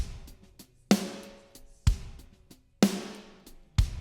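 Dry mixed drum kit from a Pro Tools studio mix, heard without reverb: four heavy, evenly spaced hits about a second apart with quick decays, with lighter ghost strokes between them.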